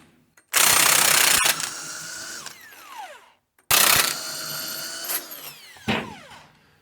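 A pneumatic impact gun works the bolts on a 1981 Ford F100 truck in two loud, close bursts of roughly three seconds each. Each burst is a harsh rattling hammer that winds down with a falling whine.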